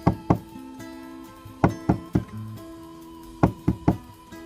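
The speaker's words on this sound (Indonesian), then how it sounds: "Ia kemudian mengetuk-ngetuk beberapa kali." Knuckles rap on a hotel room door in three separate bursts of two or three sharp, close knocks each, with short pauses between the groups.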